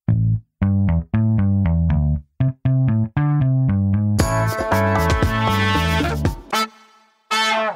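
A loud electronic doorbell chimes repeatedly in a melodic tune, then a brighter burst of ringing tones follows before it cuts off.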